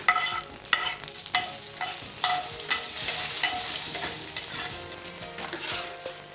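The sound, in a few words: curry leaves being stirred and sizzling in a pan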